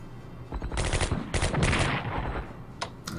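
Bursts of machine-gun and rifle fire from units in the World War II strategy game Strategic Command, with dense rattling volleys rising and falling over about two seconds and a couple of sharp lone shots after, no voices.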